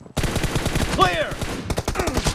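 Gunfire in a mobile shooter video game team deathmatch: rapid, continuous automatic weapon bursts with rattling shots, a brief rising tonal effect in the middle, and a sustained crackle of firing throughout.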